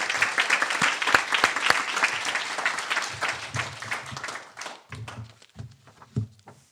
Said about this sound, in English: if we have a round of applause for all those folks with the advanced